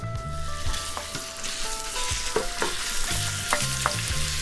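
Meat fries in oil in a pan for a thick patty filling, giving a steady sizzle broken by repeated stirring scrapes and clicks, with faint tonal hums in the background.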